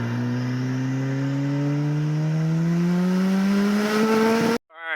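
A Toyota Celica GT-S turbo accelerates hard through the gears, its engine note climbing steadily in pitch as revs rise, loud and close from inside the car, then cutting off abruptly.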